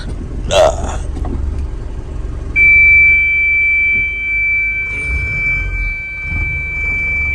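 A goods truck reverses toward its unloading point, with a steady, piercing reverse-warning tone sounding over a low engine rumble, along with brief thumps and faint voices nearby.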